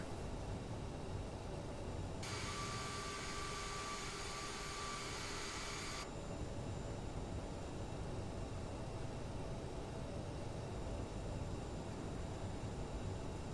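An Aerosoft CRJ-700 jet taxiing in Microsoft Flight Simulator: a faint steady engine hum with a whining high tone that cuts in for a few seconds and then stops.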